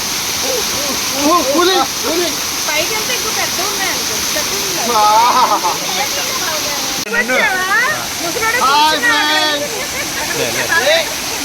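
Constant roar of the Rampa waterfalls fills the scene, loud and unbroken, while several people talk and shout over the rushing water close by.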